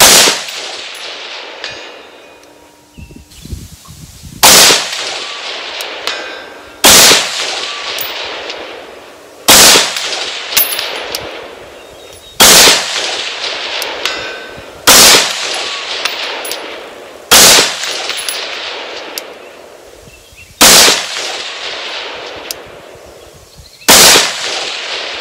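Single gunshots from an HM Defense 12.5-inch 5.56 monobloc upper rifle, eight or so loud sharp cracks fired a few seconds apart outdoors, each followed by a ringing decay.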